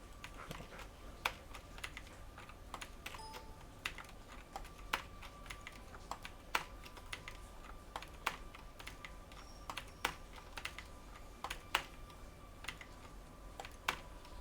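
Computer keyboard keys pressed for shortcuts while using a lasso tool, sharp isolated clicks spaced irregularly over a quiet room hum, with occasional pairs of quick taps.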